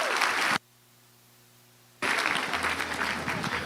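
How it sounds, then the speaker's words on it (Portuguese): Audience applause for an invited speaker at a talk on foster care and child development, a burst of clapping that cuts out abruptly, leaving a low hum, then resumes loudly with some voices mixed in. "Uma salva de palmas, por favor"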